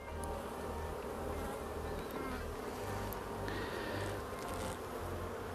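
Honeybees buzz steadily around a beehive, a dense, continuous insect drone close by with no voices.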